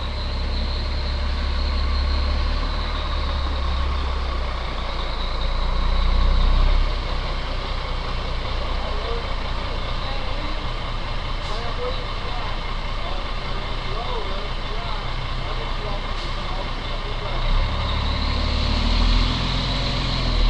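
A truck engine idles steadily with a low, continuous rumble throughout, close and loud, with faint background voices at times.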